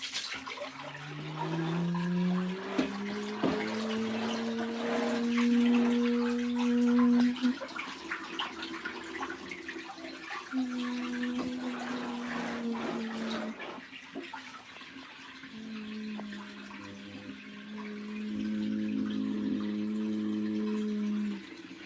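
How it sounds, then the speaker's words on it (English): A washing machine drains pink-tinted water out through its drain hose into a floor drain: a continuous watery rush with a droning pump hum that shifts pitch and stops briefly partway through, with no talking. "we got a bunch of pink water coming out of that drain hose and into that drain over there"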